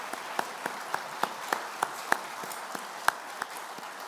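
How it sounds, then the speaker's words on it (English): Sparse, rhythmic clapping from an audience at the 2024 U.S. Naval Institute Annual Meeting, with individual claps standing out at a steady pace for several seconds, no voices over it. "So another round of applause for Secretary Work."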